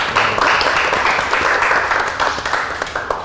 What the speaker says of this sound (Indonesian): Tepuk tangan boleh untuk.